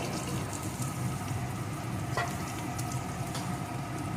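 Potatoes and pointed gourd fry in a pan for a vegetarian chorchori, giving a steady, close sizzle with a dense, even crackle and no speech.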